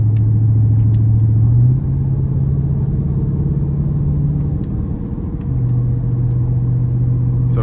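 A 2020 Dodge Charger R/T Plus Blacktop Package cruising on the highway at about 70 mph, its exhaust a steady low drone with engine rumble that holds through the whole stretch and shifts pitch slightly midway.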